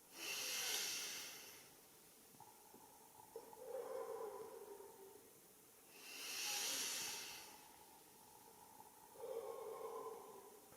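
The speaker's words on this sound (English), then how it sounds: "Breathe in through your nose for 2 seconds, hold it, purse your lips and exhale forcibly" Three slow breathing cycles up close: a quiet inhale through the nose followed by a long, forceful hissing exhale through pursed lips, repeated evenly with pauses between.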